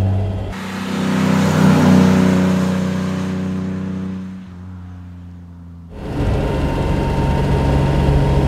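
A 1957 Mercedes 300 SL Roadster's engine roars loudly at high revs, builds and holds, then eases off and falls quiet before a sharp burst of roar returns close by.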